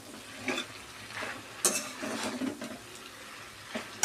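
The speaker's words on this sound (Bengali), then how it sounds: "এরকম নাড়াচাড়া করে আমি নামিয়ে নেব।" Pumpkin greens chochori with potato and brinjal is stirred in a pan, with intermittent scrapes and clacks of the spoon over a faint low sizzle, no speech.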